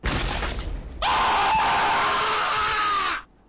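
A cartoonish scream from a ragdoll character in the physics game Happy Wheels, loud and sustained for about two seconds after a brief burst of noisy crashing, then cutting off abruptly.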